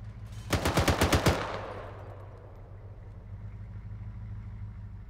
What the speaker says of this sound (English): Oh, Cookie, MG3. That guy ate bullets.